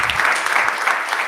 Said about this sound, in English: So round of applause for Kristen.